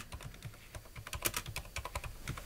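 Rapid typing on a computer keyboard, a quick run of close, crisp key clicks at an uneven rhythm, entering a short word with no voices over it.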